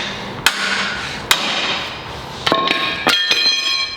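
A homemade sledgehammer, its head welded to 1-inch DOM tube, strikes a metal weld on a kart build: four or five sharp, ringing metallic blows, spaced unevenly and close by.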